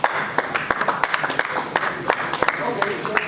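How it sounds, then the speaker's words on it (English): Scattered hand clapping from a crowd, irregular and moderately loud, with a few voices mixed in underneath. "A round of applause for him as he comes forward."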